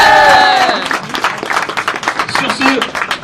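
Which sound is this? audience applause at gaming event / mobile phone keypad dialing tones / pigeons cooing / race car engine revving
audience applause at gaming event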